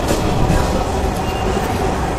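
A metro rail train at a crowded station, a loud, steady rumbling roar of the moving train with a faint high squeal near the end and no clear voices.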